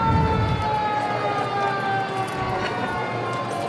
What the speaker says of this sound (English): I think we'll just let the sirens speak for themselves for a moment.